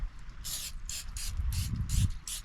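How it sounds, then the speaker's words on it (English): Six quick spray bursts from a pump bottle onto a calzone before baking in an Omnia oven, each a short airy hiss, spaced about evenly, with a low background rumble between them. "we're gonna do one more spray"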